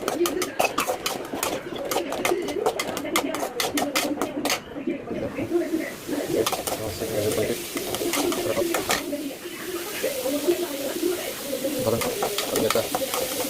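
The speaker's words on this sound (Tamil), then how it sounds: "கொஞ்சம் வெங்காயம் வதங்கிட்டோம்." Onions sauté in a pan with quick clicking spatula strokes early on, then a softer sizzle with occasional scrapes, while pigeons coo nearby.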